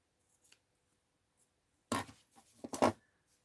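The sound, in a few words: scissors cutting material for a rag doll hat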